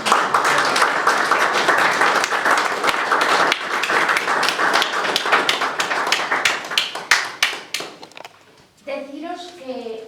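Audience applause at the end of a talk on pain, dense and sustained for about eight seconds, thinning into scattered claps before a voice begins speaking.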